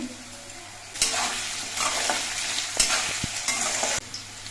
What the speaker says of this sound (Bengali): আলুগুলো আমি বেশ কিছুক্ষণ ভেজে নিয়েছি